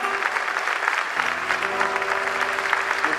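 Audience applause at an anniversary festival in Plaza Huincul, a dense, even wash of clapping from a crowd, steady and fairly close throughout the short stretch.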